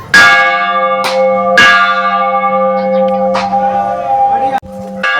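A temple bell is struck by hand several times, each loud close clang leaving a long ringing hum that carries between strikes, with a person talking over it.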